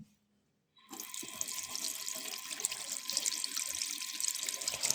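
Running tap water splashes steadily into a sink as a TENS self-adhesive electrode is rinsed, starting abruptly after a short silence and continuing as a close, even rush with small trickling variations.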